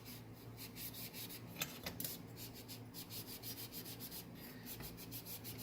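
Steel wool rubbing chrome polish onto stainless steel trim from a 1960s headlight assembly being reconditioned, a faint, steady scratchy scrubbing in quick repeated strokes, close up with no talking.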